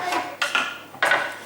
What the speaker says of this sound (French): Je vais commencer par couper l'oignon.